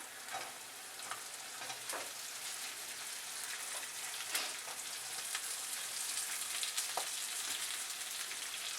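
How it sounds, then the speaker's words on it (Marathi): Slit green chillies fry in a pan, giving a steady bright sizzle throughout with a few sharper crackles and spits, fairly close and with no talking. "हिरवी मिरची उभी चिरलेली आहे बघा, थोडी भाजून घेते."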